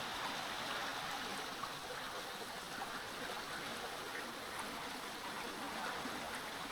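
A river flowing through a snowy winter forest in Quebec, a faint, steady broadband rush of running water that holds evenly for several seconds with no voices over it.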